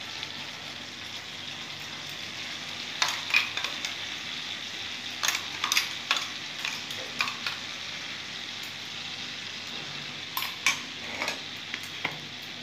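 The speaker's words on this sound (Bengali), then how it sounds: "কপি আলু ভাজা হয়ে গেছে, মাঝখানে দিয়ে দিলাম মশলাটা।" Spice paste of ground cumin, coriander and green and red chilli frying in a pan alongside fried cauliflower and potatoes, with steady close sizzling and scattered clinks and scrapes of a spoon stirring against the pan.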